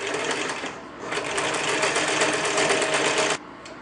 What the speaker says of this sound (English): Always when you sew, you want to press the foot pedal very slowly.